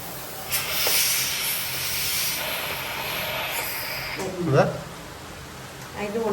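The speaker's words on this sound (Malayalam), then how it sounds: "ഇത് കൂടെ ഇങ്ങനെ ആവി ഇങ്ങനെ വരുമ്പോ അപ്പൊ നമുക്ക് പുട്ട് റെഡി" Steam hisses from a puttu steamer set on a pressure cooker, a broad steady rush that swells and fades over several seconds, with a brief voice and kitchen sounds near the end.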